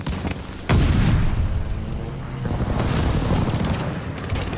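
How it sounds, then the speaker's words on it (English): An airstrike in Call of Duty: Vanguard, a sudden heavy boom followed by sustained rumbling blasts and debris, loud and close, with a second swell of explosions later on. "Allies just called an airstrike."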